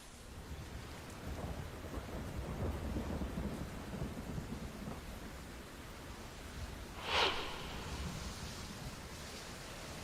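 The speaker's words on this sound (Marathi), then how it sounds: "मुंबईतल्या उपनगरात सुद्धा मुसळधार पाऊस पडतोय" Heavy monsoon rain pours steadily over Mumbai's suburbs, a dense, continuous hiss, with a sharp nearby thunderclap cracking out partway through before the downpour carries on.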